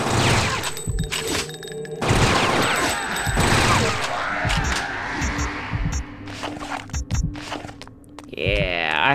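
Gunfire from a video game with a double machine gun, sharp bursts and shots mixed with crunching impacts and other game effects throughout, fairly loud and busy.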